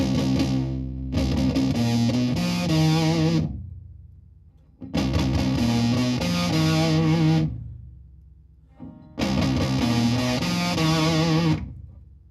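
Distorted electric guitar playing chord riffs through a notch filter effect in three bursts separated by short pauses, with a hollow, filtered tone colouring each phrase.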